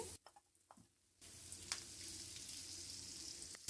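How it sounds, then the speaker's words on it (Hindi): Two tomatoes drop into frying masala for tawa bhindi. After a quiet moment with a few soft knocks, a steady, moderately loud sizzle starts and continues, with a faint clatter near the end. "अब हम इसमें 2 अदद टमाटर ऐड करेंगे।"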